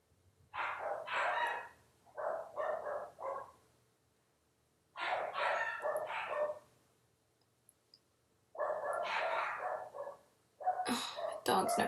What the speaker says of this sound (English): Dogs never shut up.